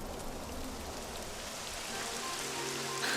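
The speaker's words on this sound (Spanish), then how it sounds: "Y empieza a llover." Rain beginning to fall in the video game Dragon Quest XI, a steady soft hiss of drops spattering on surfaces that builds slightly, with faint game tones underneath and no talk.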